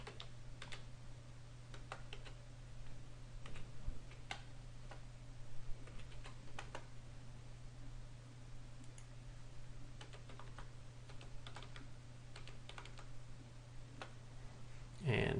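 Keystrokes on a computer keyboard while network IP address details are entered, with scattered clicks and taps throughout over a steady low background hum, fairly quiet and with no voices.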